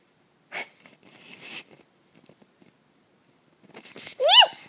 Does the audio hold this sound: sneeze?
yes